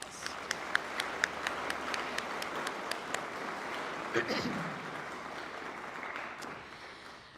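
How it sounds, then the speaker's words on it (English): Audience applause at a high school AVID senior night, a spread of individual claps near and far lasting several seconds, with a voice speaking over the clapping. "I think we should clap"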